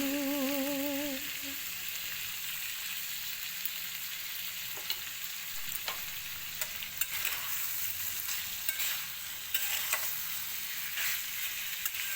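Masala for a green pea ghugni is sautéed in a wok, giving a steady, fairly quiet sizzle. Sporadic stirring clicks and scrapes run through it, and the tail of a sung note fades out at the start.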